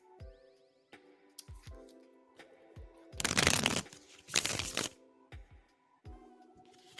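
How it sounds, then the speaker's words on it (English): Tarot cards being shuffled during a live reading, with two loud riffling bursts amid quieter taps and card handling, while soft background music plays. "SB, I'm shuffling for you now, girl. I'm shuffling for you."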